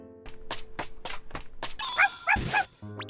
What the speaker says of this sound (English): What is this dog? Go away, will you?